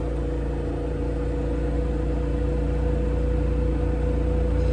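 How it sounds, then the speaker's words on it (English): An RV air conditioner runs on a portable power station, giving a steady, loud, unbroken mechanical hum with a constant low drone and fan rush, without talk. "Turn my AC on."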